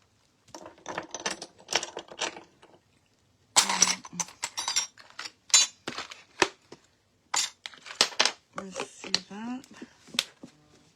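Small foil tendrils are cut for a craft piece of a foil pumpkin on framed glass, producing sharp, close metallic snips and clicks in irregular bursts, with a person talking in between.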